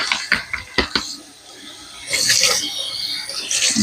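Plastic food-storage container lids are rinsed at a kitchen sink while meal prepping, with a few sharp clinks and knocks early on, then a steady rush of running water splashing over them.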